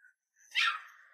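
A puppy gives a single short, high yelp after a faint whimper, close by and alone in a quiet room.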